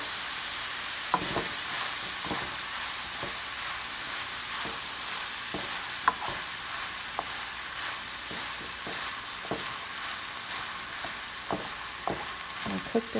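Pork fried rice sizzles steadily in a hot pan while being stir-fried with soy sauce, with scattered scraping clicks from a spatula over a continuous, close frying hiss.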